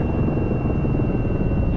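Steady, loud rotor and engine drone of a helicopter in a flight simulator, an even rumbling hum holding constant throughout with no voices.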